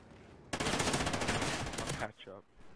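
Rapid automatic gunfire in a video game, a dense loud burst lasting about a second and a half, then cutting off into brief faint sounds.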